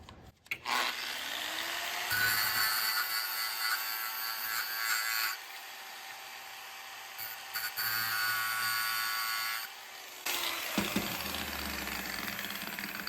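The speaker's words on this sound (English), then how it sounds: "just grind off the little rivets that hold this gauge in" A power grinder cuts off the small rivets holding a gauge in the dash of a 1978 Chevy K20 Stepside longbed truck, a loud steady whine in long bursts with short pauses between.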